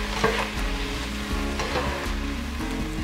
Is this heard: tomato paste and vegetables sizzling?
yes